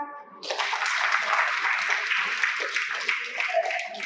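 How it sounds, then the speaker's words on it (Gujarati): An audience at a diet workshop breaks into sustained applause for themselves, a dense wash of many hands clapping that starts abruptly and continues steadily throughout. "તો આ બધા પોતપોતાના માટે તાળી પાડો"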